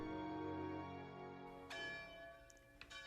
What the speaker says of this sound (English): Suddenly bells begin to toll.